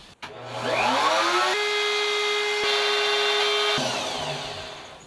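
A power tool cutting an eighth-inch dado in wood during a boat cabinet refit: the motor spins up with a rising whine, holds a loud steady high tone through the cut, then winds down, close and alone.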